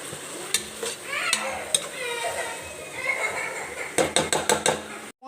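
Spices, pepper and salt are stirred into mixed vegetables frying for pulao in a pan, with scraping spoon strokes and sharp metallic clinks against the pan over a soft sizzle.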